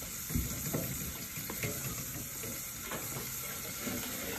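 Garlic cooking in a pan, a steady close sizzle with soft scraping and stirring touches throughout.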